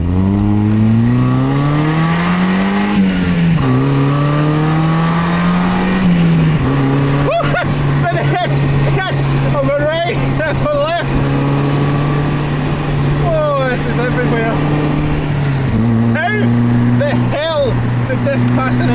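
A Mazda MX-5 engine runs steadily close by, its drone stepping up and down in pitch as revs change, with a person talking over it.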